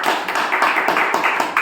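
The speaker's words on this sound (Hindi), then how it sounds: "ताली बजाओ" Steady applause from a group of people at a spiritual gathering, many hands clapping in a dense continuous patter with slightly uneven surges, fairly close and loud throughout.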